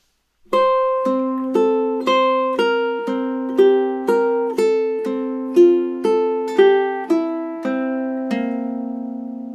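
Solo ukulele picks the B melody of Fernando Sor's Opus 60 no. 1 in steady quarter notes, about sixteen clear plucked notes in an even beat, close and clean with no speech.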